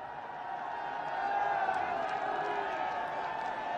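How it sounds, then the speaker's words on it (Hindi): A large crowd cheers, whoops and applauds to welcome the Prime Minister at a public event, a broad sustained roar that swells in the middle and stays loud throughout. "आप अपने उद्घोष, जय घोष और तालियों से उनका स्वागत करेंगे"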